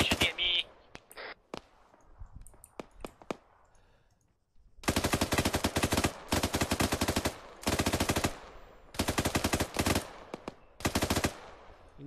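Gunfire in a military video game, with a sniper among the shooters, arrives as several long, loud bursts of rapid shots in the second half, after a quieter stretch with scattered single cracks and faint voices.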